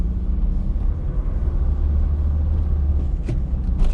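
A 1984 Pontiac Fiero driving in second gear, its engine a steady, loud low rumble with road noise from inside the cabin and a few faint clicks toward the end.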